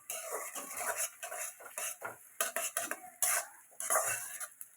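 Onions frying in oil and butter for a home-style mutton keema with peas, heard as sizzling under clattering strokes of a spatula against the pan, close and busy.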